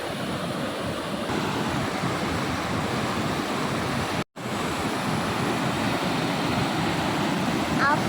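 Water of the river at Pasukkadavu rushes and falls in a loud, continuous roar. The wash stays close and steady, broken by one brief dropout near the middle.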